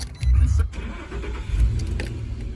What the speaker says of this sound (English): Okay, we start the car, push that down, and there we have it.